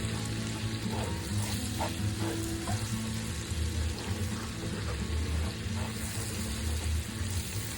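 Garlic sizzling and frying in butter in a pan, a steady close crackle with small pops throughout, no talking.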